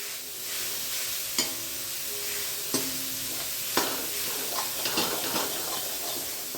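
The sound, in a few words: stirring mawa (milk solids) in a pan on low heat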